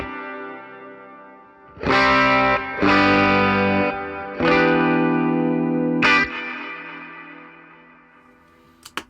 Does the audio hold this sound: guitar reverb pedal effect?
yes